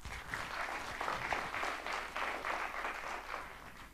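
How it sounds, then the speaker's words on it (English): A keynote audience on personal branding gives a steady round of applause, a dense wash of clapping that holds fairly even for four seconds with no voices over it. "let's give that a round of applause."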